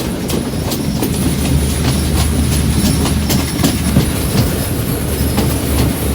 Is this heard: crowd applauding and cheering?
no